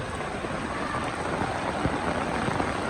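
Heavy rain pours down steadily during a flood with knee-deep water, a dense, even hiss with scattered close drops and occasional light wind buffeting the microphone.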